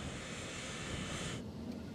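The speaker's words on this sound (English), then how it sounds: "Concorde crosses into American airspace over the mid-Atlantic." A Concorde jet airliner roars steadily with broad rushing engine noise over the mid-Atlantic, then the higher hiss suddenly drops away near the end.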